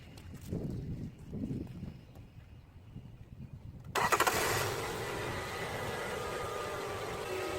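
A car engine starts after a battery replacement: a few soft clicks and rustles first, then the engine catches with a sudden burst and settles into a steady idle running close by.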